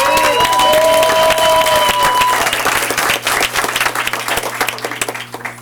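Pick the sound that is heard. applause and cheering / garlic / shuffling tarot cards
applause and cheering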